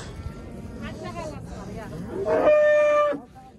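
A cow lows once, loud and drawn out, at a livestock market in Karakol, heard amid a crowd of people talking and general market hubbub.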